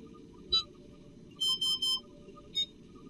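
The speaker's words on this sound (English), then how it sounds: "I press the code button for 3 seconds until 3 beep tones are audible" A Parapulser device answers its held code button with beep tones: one short electronic beep, then a quick run of three clear beeps, then one more single beep, all crisp and close over a low steady hum.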